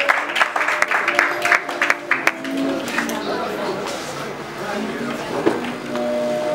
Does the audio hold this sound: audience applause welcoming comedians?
yes